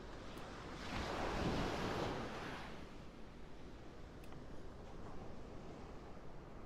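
Ocean waves swell into a broad, roaring surge that peaks and then recedes into softer, steady washing surf, with faint wind in the background.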